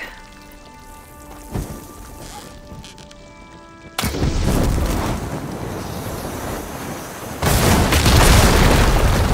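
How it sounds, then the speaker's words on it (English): Blaze barrels detonate after being hit with fire ammo in Horizon Forbidden West, loud booming blasts with a roaring, crackling burst of debris that surges twice and lingers as a heavy rumble over a quiet hum. "Hitting those blaze barrels with fire ammo should do the trick."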